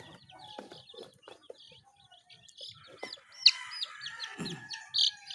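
Newly hatched chicks give thin, high peeps in scattered short bursts, close and fairly faint, over quiet low rustling and handling noises.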